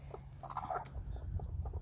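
A protective mother hen clucks softly nearby on a small farm, a few short low clucks and faint chirps with light rustling.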